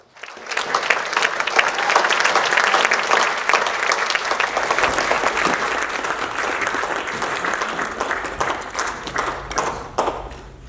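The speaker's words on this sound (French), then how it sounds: "Merci de l'applaudir" Sustained applause from an assembly greeting a speaker on Malagasy cosmopolitanism. Many hands clap in a full, even roar that rises quickly and carries on for about ten seconds before thinning near the end.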